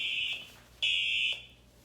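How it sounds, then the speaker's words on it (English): Siemens fire alarm tablet sounding nearby in two loud, piercing electronic tone bursts, the second one starting louder and cutting off sharply. "I hear the Siemens alarm clearly over here."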